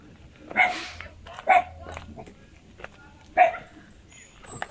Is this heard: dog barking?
yes